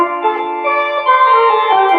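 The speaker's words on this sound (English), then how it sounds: "you have got a trombone thing on it. If you want to hear that sound" A sustained electronic organ tone with a brassy, trombone-like timbre, playing a few steady held notes alone.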